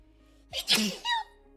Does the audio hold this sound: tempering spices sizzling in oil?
no